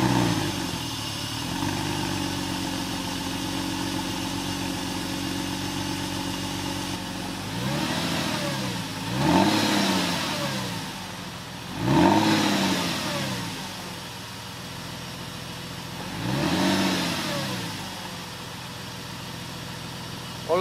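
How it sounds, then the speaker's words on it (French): Porsche 911 engine with an unstable idle, running after its intake and sensors were cleaned: a steady, close idle broken by three or four rising and falling rev swells, with no talk. "on va faire un petit démarrage, contrôler que tout est OK, qu'on n'a pas de voyant, que le ralenti est bien propre"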